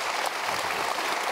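An audience in a hall claps together, a dense, steady patter of applause at moderate loudness that fills the room.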